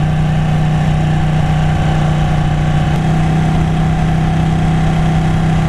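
A Ducati Panigale 899 motorcycle engine drones steadily during a test ride, a loud, even hum without breaks.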